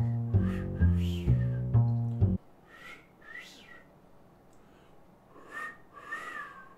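A person attempting to whistle during a Fortnite session, producing a few breathy, airy bursts after a short stretch of loud tonal game music.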